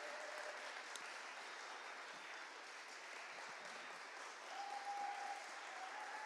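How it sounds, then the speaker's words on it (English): Audience applause for the judges at a UK barista championship regional heat, steady dense clapping heard from a distance in a large room, faint and sustained throughout. "give a round of applause to all the judges who've been involved"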